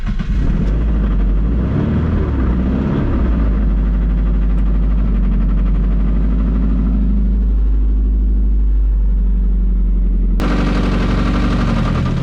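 A 500 HP Mazda Miata with a damaged clutch runs loud and close, a heavy droning engine rumble with rattling, choppy mechanical noise that shifts in pitch before a sudden harsh burst near the end.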